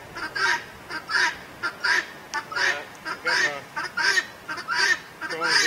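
A guinea fowl calls over and over in rapid, harsh, honking cries, fairly close and steady throughout, with no talking.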